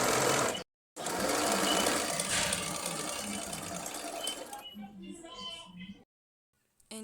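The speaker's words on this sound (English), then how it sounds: "that's how I'm sewing the material together" A sewing machine stitches dress material across the chest area, its steady close whirring running for several seconds before stopping, with a quieter mechanical stretch and brief gaps.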